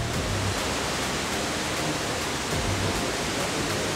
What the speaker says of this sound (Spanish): Hemos llegado a la gran cascada de la zona 1